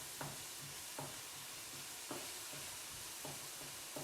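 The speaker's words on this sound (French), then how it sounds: "L'objectif pour moi, là, c'est avec le bout de ma spatule, de bien séparer tous mes morceaux" A spatula stirs and breaks up minced meat in a saucepan, giving a quiet sizzle with soft scraping strokes repeated about once a second over a steady low background.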